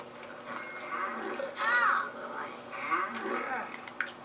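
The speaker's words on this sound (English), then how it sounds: "you just got ate by a cow plant." A cow plant in The Sims 3 eating a Sim, a short burst of warbling, moo-like creature cries at moderate volume with voices audible in the mix.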